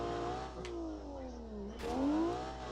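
An old inline-engined car in BeamNG.Drive revs, its engine tone sweeping down and then climbing again in a steady whirring drone, faint and continuous for under three seconds.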